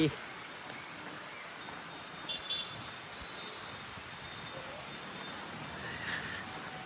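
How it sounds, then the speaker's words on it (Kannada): Rain falls outside a Kerala KSRTC bus on the Alleppey to Kochi route, giving a faint, continuous hiss with a few soft knocks. "ಸೊ ಮಳೆ ಬರ್ತಿದೆ"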